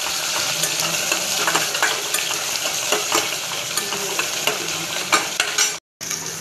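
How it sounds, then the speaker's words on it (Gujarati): Onions and tomatoes fry in a pan while a spoon stirs them, a steady close sizzle with repeated scraping strokes, cut by a brief silence near the end. "ટમેટા ડુંગળીને ફ્રાય કરવી પડશે થોડી વાર સુધી"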